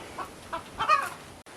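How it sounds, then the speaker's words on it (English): A few backyard hens cluck softly in short, separate bursts against quiet background noise. "Oh, sorry, 9 chickens."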